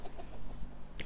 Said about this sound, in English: here, yeah, you can see chickens, they just try to find, to eat something